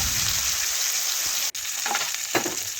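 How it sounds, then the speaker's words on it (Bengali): Fish sizzling steadily in hot oil in a kadai for a Bengali fish curry, a dense continuous crackle with a couple of brief stirring clinks near the end. "মাছগুলো এক পাশ ভালোভাবে ভাজা হয়ে গেছে। এখন আমি আরেক পাশ উল্টে ভেজে নেওয়া পর্যন্ত অপেক্ষা করব।"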